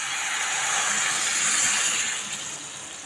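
Boiled jackfruit water being poured into a curry pan, a steady hissing, rushing stream held close for about three seconds before easing slightly.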